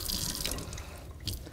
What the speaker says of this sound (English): And then just a little bit of water